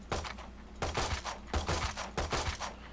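Sidearm pistol fire in a first-person shooter game, four separate bursts of shots spaced across a few seconds with short gaps between them, fairly loud and clear, with no talking over them.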